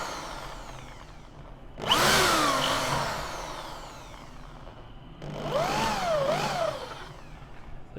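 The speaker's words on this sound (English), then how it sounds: "So pre-drill these little holes" A power drill bores small pilot holes into a wooden side-table top built from an old Mini gearbox: two separate bursts of whining, pitch-sweeping drilling, each a second or so long, close by with quiet pauses between.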